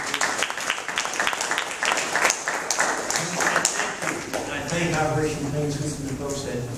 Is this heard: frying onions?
no